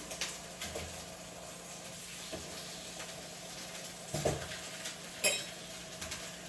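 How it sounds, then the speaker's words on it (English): Burger patties sizzling in a pan as they are flipped, a steady low fry hiss with a few scraping and clinking spatula touches, near and fairly quiet, no talking. "I'm just flipping my burger patties"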